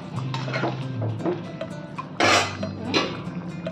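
A lid goes down on a pot of jackfruit curry with one sharp, close metallic clatter, followed by a quieter clink a moment later over a low stovetop hum.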